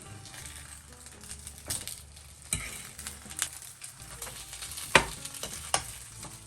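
Lemon sole fillets sizzle steadily in a pan, with the occasional sharp clink and scrape of a utensil against the metal, and no talking.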